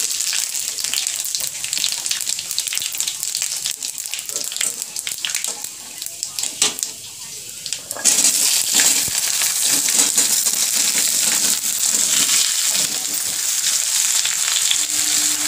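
Panch phoron spices with radhuni, cumin and green chili are dropped into hot oil in a pan. They give loud, dense sizzling and crackling throughout, which flares up sharply about halfway through.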